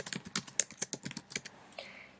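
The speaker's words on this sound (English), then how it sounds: "Now that I've started typing" Rapid keyboard typing on a computer while editing a slide, with quick irregular clicks close and clear, no talking.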